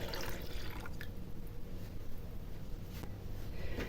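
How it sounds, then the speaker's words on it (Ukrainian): Warm milk mixed with water is poured into a bowl, a close, steady liquid splashing and trickling with a few brief louder spatters along the way. "Нагріла молоко з водичкою і вливаємо у мисочку."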